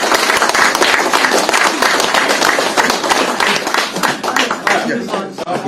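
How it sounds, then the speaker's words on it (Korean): A political lecture audience gives loud, dense applause in welcome, many hands clapping close and continuously, easing slightly near the end. "여러분 큰 박수로 한번 환영해 주시고 격려해 주시기 바랍니다"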